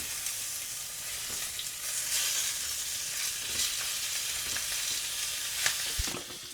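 Food sizzling steadily in a frying pan just after the pieces are turned, a dense continuous frying hiss with occasional pops and crackles, close and fairly loud with no talking.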